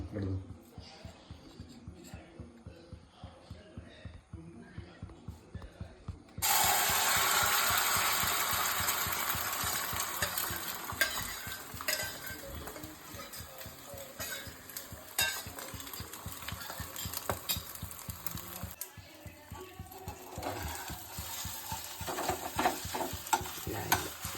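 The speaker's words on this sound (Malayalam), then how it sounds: "എണ്ണ ചൂടായി വരുമ്പോ നമുക്ക് കലക്കി വെച്ച മുട്ട നമുക്ക് ഇതിലേക്ക് ഇടാം" Beaten egg poured into hot oil for frying: a rapid rhythmic stirring clatter gives way to a sudden loud sizzle that slowly settles, with a steady mechanical hum underneath and a voice talking over it.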